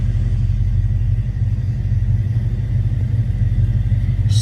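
The 340 V8 in a 1973 Plymouth Barracuda runs at a steady idle close by, a loud, deep, continuous rumble with no talking.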